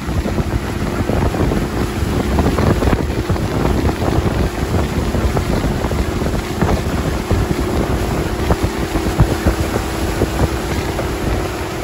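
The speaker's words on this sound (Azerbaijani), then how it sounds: "Ləzzətli külək var." Strong wind buffets a moving boat in Sumidero Canyon near Tuxtla, Mexico, giving a loud, continuous roaring rush over a low engine rumble, with no talking.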